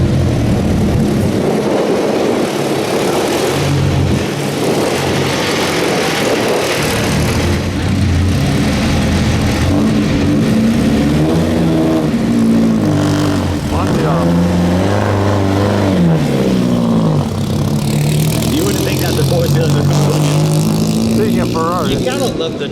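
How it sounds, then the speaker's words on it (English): A Ferrari with a four-cam V12 engine runs and revs at a concours car show, loud and continuous with rising and falling engine tones, and people talk over it. "You gotta love the noise these cars make."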